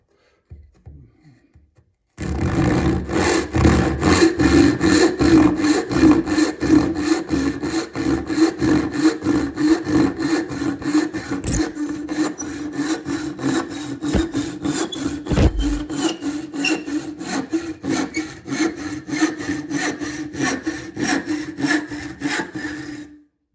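A hand saw makes a real cut through wood in a rapid, steady rhythm of rasping strokes, close and loud, starting after a brief quiet moment and continuing to the end with no talking.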